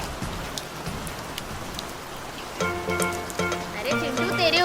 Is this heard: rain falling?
yes